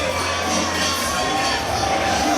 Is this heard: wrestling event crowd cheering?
yes